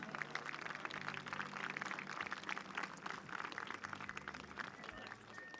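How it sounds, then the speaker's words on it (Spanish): Steady applause from a crowd at the Tapati Rapa Nui 2024 night festival, dense clapping throughout with a low hum underneath, fairly loud and continuous. "Más fuerte el aplauso para Moana Nui Huki."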